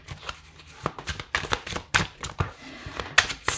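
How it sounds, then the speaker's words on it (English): Tarot cards are riffle- or bridge-shuffled by hand, giving rapid crisp flutters and taps in repeated close bursts, loud and clear with no talking. "They shuffle really well if you're a bridge shuffler or like a riffle shuffler."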